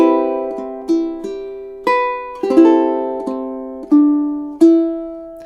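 On ukulele, the next two measures of a three-chord progression ring out as picked arpeggiated chords, bright notes sustaining and overlapping in a steady, unhurried rhythm, near and solo with no voices.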